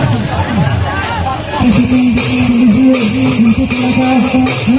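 A dense crowd murmurs at the Kharripahad Jhula Rath Yatra fair, a continuous babble of many voices with traffic-like rumble beneath and someone speaking over it in the foreground.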